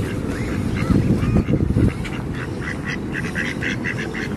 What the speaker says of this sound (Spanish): Mira los patos.